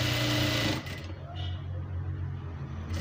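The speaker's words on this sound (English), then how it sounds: "So I'll go ahead and, you know, stitch this together." A sewing machine stitches crinoline hem pieces together, a loud close mechanical whir in a short burst, then a lower steady motor hum continuing to the end.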